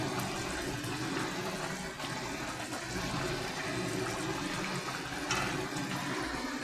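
Katla fish curry with potato and cauliflower bubbles on a stove in a steady, close simmering hiss and burble, with no talk over it.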